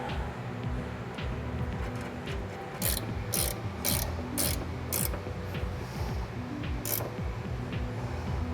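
Ratchet wrench tightening a nut on a sway bar end link of a Lexus IS300, its clicking bursts coming in short repeated runs amid ongoing mechanical handling noise.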